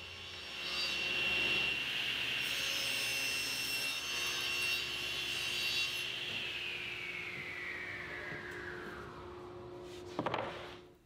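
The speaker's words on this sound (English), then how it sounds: "the next step is to cut the parts for the top and bottom" A saw cuts wood parts for the top and bottom of a planer cart storage cabinet, a steady loud whining cut for about ten seconds that winds down, with a brief knock at the end.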